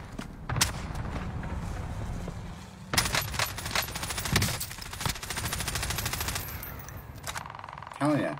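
Automatic gunfire in a Warzone Resurgence endgame match, sustained bursts of rapid shots running through most of the stretch with a few sharp single cracks, voices talking over the action.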